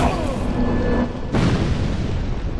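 Explosions in a video game, with a Skeleton Lord boss at Earthen Peak: a loud booming blast rolls out and fades, then a second burst hits about halfway through, with rumbling game noise throughout.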